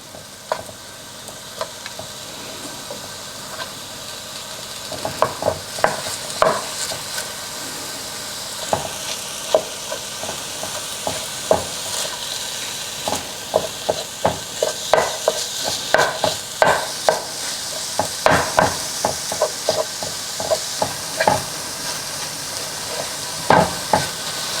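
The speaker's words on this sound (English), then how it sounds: "And we're gonna add our ground turkey. Get that cooked up." Ground turkey fries in a pan under a steady sizzle, while a utensil stirs and breaks it apart in many sharp knocks and scrapes that come in bursts, close and fairly loud, with no voices.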